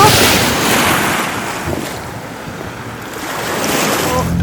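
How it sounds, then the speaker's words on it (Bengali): Surf washes onto a sunny beach with clear water, a broad hissing rush that swells and fades, mixed with gusty wind buffeting the microphone. "কি সুন্দর বিচ"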